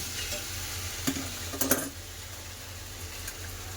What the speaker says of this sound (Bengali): সবজিগুলো ভালো করে কষে নিয়েছি এবার মশলা দিয়ে দেবো